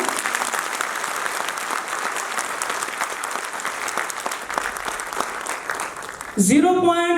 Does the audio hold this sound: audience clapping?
yes